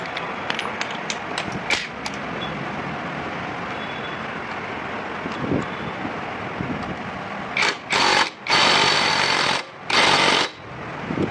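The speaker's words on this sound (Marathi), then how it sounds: "स्पेशल टूलनी बोल्ट टाईट करून घेऊया." A special tool tightens the crank rotor bolt on a Hero Honda Splendor-type motorcycle, with rattling mechanical bursts and a run of loud, repeated impact-like blasts toward the end.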